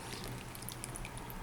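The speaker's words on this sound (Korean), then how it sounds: "소리 들리시나요? 물 흐르는 소리?" Water trickles steadily down through a stepped planter built from recycled containers, wetting the soil tier by tier; a soft, faint, continuous flow with no talking.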